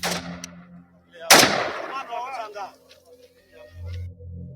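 Soldiers shooting fire a loud, sudden burst of gunfire that echoes and fades, with voices heard before and after.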